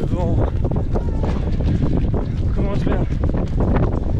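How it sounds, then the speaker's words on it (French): Strong wind gusts roar and buffet the microphone continuously during a rainy trail marathon, mixed with splashing water and a runner's voice speaking underneath. "Une petite rafale de vent qui réveille bien."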